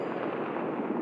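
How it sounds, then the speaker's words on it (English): Predator missile strike in the shooter game Call of Duty Mobile, a dense continuous rumbling blast with crackling debris, steady and loud for a second. "Predator missile."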